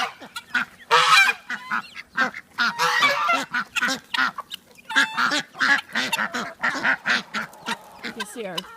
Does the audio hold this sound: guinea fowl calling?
yes